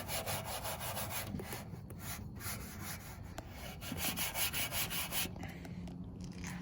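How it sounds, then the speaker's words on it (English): A rag rubs paint into a wooden part of a board track racer bike with steady back-and-forth scrubbing strokes, close and continuous, with no talking. "let's go ahead and rub that a little bit with some of this paint"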